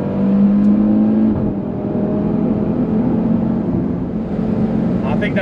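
A car engine accelerates out of a corner on a race track, a loud, close, continuous roar with steady pitch as the throttle is squeezed on, heard from inside the car.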